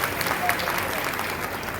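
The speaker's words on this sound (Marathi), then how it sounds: "जोरदार टाळ्या वाजल्या पाहिजे" Applause from a crowd at a large women's gathering, a steady wash of clapping lasting the whole short stretch.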